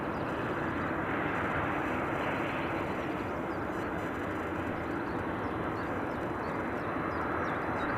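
KLM Boeing 737 taxiing at Edinburgh airport, a loud, steady broadband jet roar that stays constant and close throughout, with no voices.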